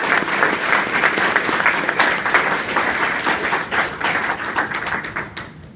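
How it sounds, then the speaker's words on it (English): A crowd applauds a martial arts instructor at a talk, with close, crisp individual claps standing out in a steady round that gradually thins toward the end. "Give him a round of applause."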